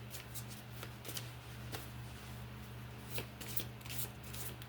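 Close, fairly quiet tarot card shuffle: a run of quick, soft riffling snaps at an uneven rhythm over a steady low electrical hum, with no talking.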